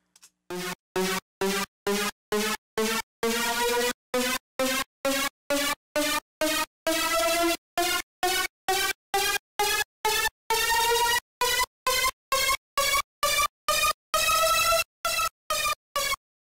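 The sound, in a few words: synth with maximum pitch bend range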